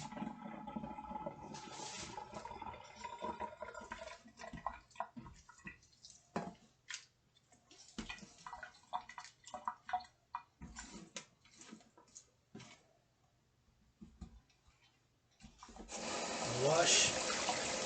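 Harvested wild grapes are washed in a container of water, heard as quiet, intermittent splashes and drips, ending in a steadier rush of running water. Faint voices can be heard.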